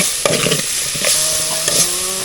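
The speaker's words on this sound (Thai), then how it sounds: "ต้องคั่วก่อนให้ดี มีหมูสามชั้น" Pork belly stir-fries in a hot pan for a Thai curry, a loud close sizzle with quick scraping stirs and a faint tonal whine underneath.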